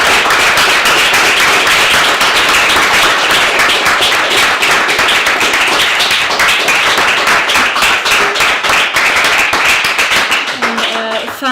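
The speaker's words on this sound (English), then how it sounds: "I think we give one last big applause here." Dense, loud clapping from an audience at the close of an online counter-writing event, a steady wash of many hands that thins and breaks off near the end.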